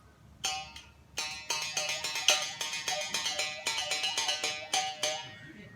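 A mouth bow, its string plucked while the player's mouth shapes the resonance, gives a quick run of bright twangy plucks in an uneven rhythm with shifting overtones, played close and alone.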